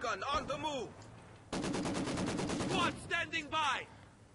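Video game gunfire in Company of Heroes 2: bursts of machine-gun fire and single shots crack out in a loud, rapid sequence, with a battlefield voice and shouts mixed in.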